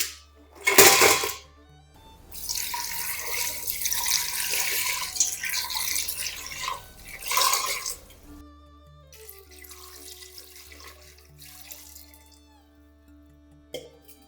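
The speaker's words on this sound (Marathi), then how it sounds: "हे खेकडे आपल्याला 5 ते 6 पाण्याने स्वच्छ धुवून घ्यायचे." Crabs being rinsed clean under running water, a tap gushing and splashing loudly in bursts, with sloshing, dripping and the clatter of shells against a vessel between pours.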